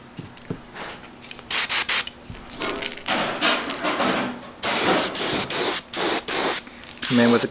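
Pearl lime green paint is sprayed onto the top of a crankbait fishing lure in a series of short, close hissing bursts, with quieter handling sounds between the sprays.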